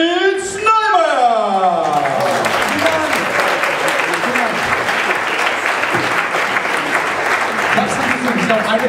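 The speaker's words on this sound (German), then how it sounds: "Und nun einen ungleich lauteren Applaus für" A theater audience at a comedy show in Hamburg breaks into loud, sustained applause after a host's voice trails off at the start, the dense clapping continuing steadily to the end.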